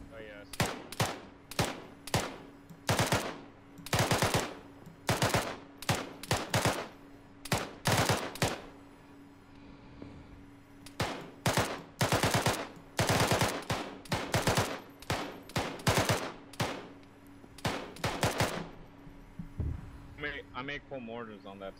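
Machine-gun fire in the Arma 3 military sim: repeated loud bursts of automatic gunfire in rapid clusters, with brief pauses between volleys, low hum underneath and occasional radio-style talk.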